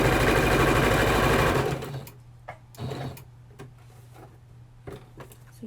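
A sewing machine stitches fabric in a fast, steady whir for about two seconds, then stops as the work is pivoted at a corner, leaving a low hum and a few short clicks and handling knocks.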